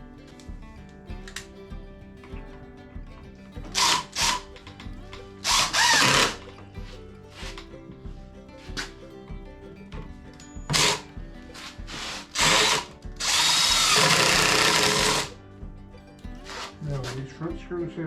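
A power drill drives screws into a refurbished chair frame in several short, loud bursts separated by handling clatter and a voice talking, heard up close in a workshop.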